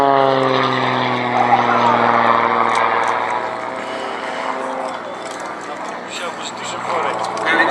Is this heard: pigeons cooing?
no